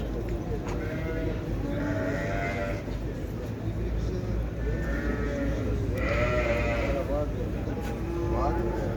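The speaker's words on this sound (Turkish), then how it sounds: "Yabancı değil, yerli koyun hayvanlar." Several sheep bleat in drawn-out calls at a livestock market in Şarkışla, Turkey, over a constant background rumble and murmur of people talking.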